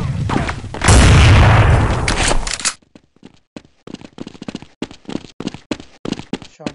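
Counter Strike 1.6 gunfire on the Dust 2 map: a loud sustained burst of shots for about two seconds, followed by a string of sharp, separated single cracks spaced irregularly.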